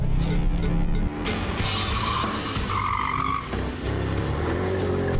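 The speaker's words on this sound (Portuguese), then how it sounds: "180, quase 200 por hora, eu vou fazer uma curva aqui." A luxury GT car corners at close to 200 km/h, engine roaring loudly with tires squealing and scrubbing through the bend, heard up close without talk.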